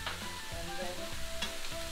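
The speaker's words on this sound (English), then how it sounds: "and then keep stirring this" Pasta with bacon, vegetables, mixed herbs and pepper sizzles in a pan while being stirred, an even, close frying hiss with soft scraping sweeps and no speech.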